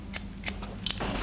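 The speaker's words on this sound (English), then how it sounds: "cut that nice and straight. But again, point cutting into it" Scissors point cut a man's wavy hair in a few quick crisp snips spaced unevenly, close and clear against a quiet background.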